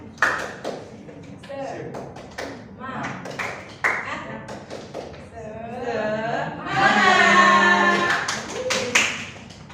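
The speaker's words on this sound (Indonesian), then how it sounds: "Contoh yang ini, tepuk semangat." A classroom of students performs a rhythmic spirit clap during a microteaching lesson, sharp clustered hand claps in a patterned beat mixed with a teacher's voice and children chanting along, ending in a denser burst of claps and cheering.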